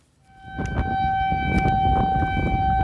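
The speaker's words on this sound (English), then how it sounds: "Tornado sirens sounding there." A steady wailing tornado siren sounds continuously outdoors in Mason, Ohio, loud and sustained with a droning tone, mixed with rumbling wind or background noise.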